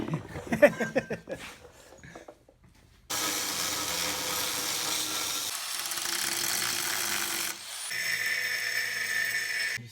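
Metal grinding on a Chevette transmission mount in a garage, a steady loud broadband whine running for about seven seconds with a brief dip in the middle, preceded by a few short clanks and rattles.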